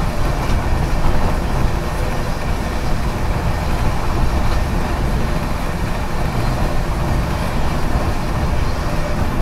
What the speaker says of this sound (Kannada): ನೋಡಿ, ಇದೇ ನಾನು ಹೇಳ್ತಿದ್ದಿದ್ದು ಬೆಂಗಳೂರು ರಾಜಧಾನಿ.